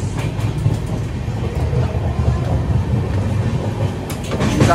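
Steady, loud rumble heard from inside a moving passenger train on rails, with a continuous rolling roar and faint rhythmic clatter throughout, no voices.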